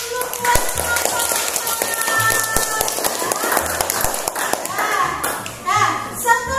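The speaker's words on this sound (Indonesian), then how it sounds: "Tepuk tangan dulu buat kelompok" Children in a classroom clap for a group after its presentation, a busy patter of hand claps and sharp taps mixed with kids' chatter and voices throughout.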